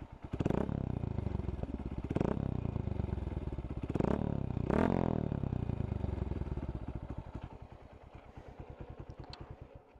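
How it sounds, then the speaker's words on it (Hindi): A Honda Hornet 160R motorcycle with an aftermarket Akrapovic full-system exhaust, dB killer removed, revs hard several times in quick bursts, then settles back to a rumbling idle. "raving the engine,"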